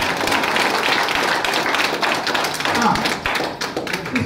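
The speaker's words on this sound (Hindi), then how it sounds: "अब इन दोनों में से केवल एक के लिए ताली बजाना है" An audience claps in a dense, loud, sustained burst of applause at a newspaper launch ceremony in a rural Indian setting, with a few voices faintly mixed in.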